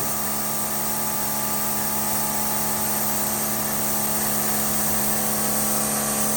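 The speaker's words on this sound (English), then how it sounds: "Okay, Jerry, turn off the air pump." An air pump fills a pressure tank for testing a diesel electric system, giving a loud, continuous mechanical whine and hum with no pauses and no voices.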